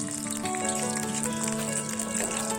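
Cashews and raisins frying in hot ghee for pongal, a steady close crackling sizzle with dense popping that runs continuously and fairly loud throughout.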